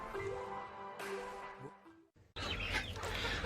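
A small Ko Shamo bantam rooster crows and clucks close by, the calls breaking off briefly before a burst of noisy rustling.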